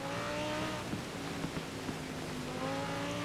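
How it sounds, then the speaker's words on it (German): A high, sustained V10 engine whine from an Audi R8 in Forza Horizon 4 holds a steady pitch throughout, the tone of a racing car revving, with a faint rise near the end. "dieser Klang, dieser V10 Motor"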